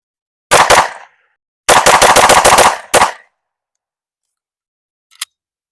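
Rapid strings of close, loud shots from a Smith & Wesson pistol fitted with a DPM Systems competitive recoil spring: a two-shot pair, then a fast run of about eight, then another pair, each burst cracking sharply before silence.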